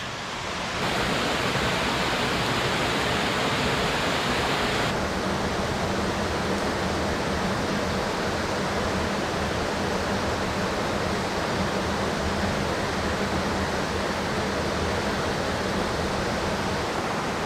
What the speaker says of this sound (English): This has got to be one of the most beautiful waterfalls I've ever seen.